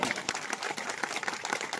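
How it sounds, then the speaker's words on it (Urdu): Audience applause at a Muslim Khatik community educational programme in Kasoda, Jalgaon district: dense, steady clapping from a large hall crowd, loud and continuous throughout, with no talk over it. "پوری ٹیم کے لیے ایک بار زوردار تالیاں"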